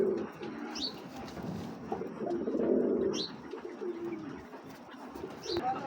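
Low, rolling coos from a pair of Giribaz pigeons come in slow repeated bursts nearby, with a few faint higher chirps in a quiet setting.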